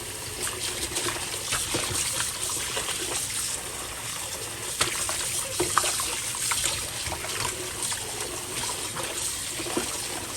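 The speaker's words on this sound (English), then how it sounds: "So I'm rinsing it one more time." Tap water runs steadily over raw chicken being rinsed for Jamaican honey garlic BBQ chicken, a continuous close trickle and splash with small irregular spatters throughout.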